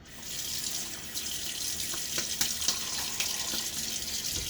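Tap water runs steadily into a sink during a wet shave with a Gillette Single Ring safety razor and Tiki Bar Spice lather, a continuous close hiss with a few faint clinks.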